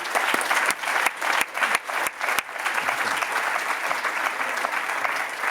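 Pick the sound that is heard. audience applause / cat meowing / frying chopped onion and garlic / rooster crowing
audience applause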